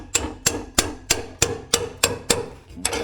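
Hammer strikes a pickle fork wedged under a 1994 Jeep Wrangler YJ during an engine swap: about ten sharp metallic taps at a steady, fairly quick rhythm, close and loud with no talk.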